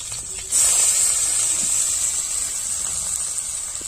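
Chopped medium onion hitting hot oil with curry leaves already in the pan, a sudden loud sizzling hiss that bursts in and then settles into a steady, slightly fading crackle.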